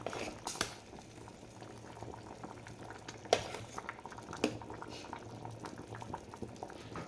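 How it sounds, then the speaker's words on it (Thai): Water bubbles at a rolling boil in a pot for coconut milk dessert, a soft continuous burble with a few louder pops and splashes, no one talking. "ต้มน้ำให้เดือด"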